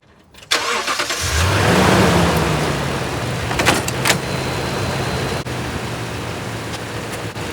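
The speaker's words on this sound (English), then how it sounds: "We can go ahead and jump this car." A car engine cranks and catches at about half a second with help from a Stanley Fatmax 1200 amp jump starter, then settles into a steady, loud idle, with a couple of brief clicks and rattles and no talking.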